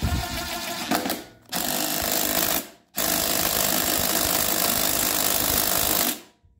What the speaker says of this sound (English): I'm just going to use my impact